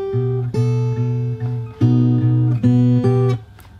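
Fingerstyle acoustic guitar plays the verse of a song, plucked notes and ringing chords in a steady, clear rhythm up close with no talking.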